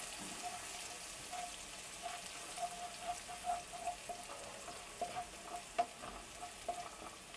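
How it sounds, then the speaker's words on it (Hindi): Chopped onions fry to golden in a pan, giving a faint, quiet sizzle broken by scattered soft crackles and pops, with no voices. "अनियन को हमने गोल्डन होने तक फ्राई कर लिया है"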